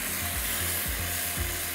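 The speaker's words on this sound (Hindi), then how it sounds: "इसको हम अच्छी तरह फ्राई करते हैं" Tomatoes frying in oil in a pan, a dense steady sizzle close by, with a faint rhythmic low mechanical ticking running underneath.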